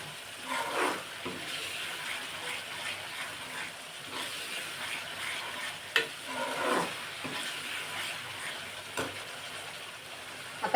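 Masala for palak paneer sautés in oil with a continuous close sizzle and hiss, while a spoon stirs with soft scraping strokes and a few sharper knocks against the pan.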